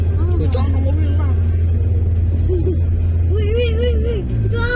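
Car cruising fast along the elevated Makassar toll road, heard from inside as a loud, steady low road and engine drone throughout, with people chatting over it.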